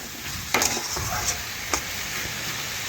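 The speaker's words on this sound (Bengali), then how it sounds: "তো এখন কুমড়োটা দিয়ে আবারও মশলার সাথে কষে নিচ্ছি।" Raw pumpkin stirred and fried with spices in a pan: a soft ongoing sizzle broken by a few sharp spatula knocks and scrapes against the pan.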